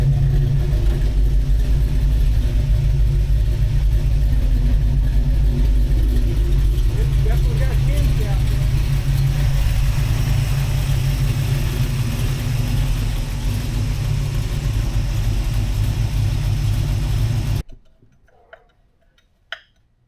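An engine running steadily after being refuelled, a loud continuous rumble with a ticking idle heard up close, cutting off abruptly near the end and followed by near silence and a couple of faint clicks.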